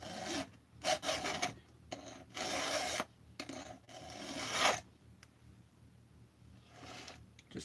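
A blade is sharpened with repeated rasping swipes on alternating sides, each stroke a bright scraping burst of about half a second, several in quick succession, then quieter scraping toward the end.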